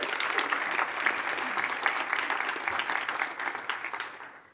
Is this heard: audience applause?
yes